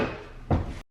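A kitchen cabinet drawer slides open in one brief, fairly close thud-and-rub motion, set against low room noise and followed by a short gap of silence.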